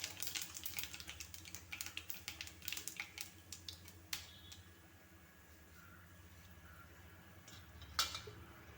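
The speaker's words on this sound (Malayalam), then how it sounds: "ചൂടായ എണ്ണയിലേക്ക് കടകം ഉലുവയും കൂടെ ഇട്ട് കൊടുക്കാം" Mustard seeds and fenugreek hit hot oil and set off a dense, quiet crackle of tiny pops, busy at first and then thinning to a soft sizzle with an occasional louder snap.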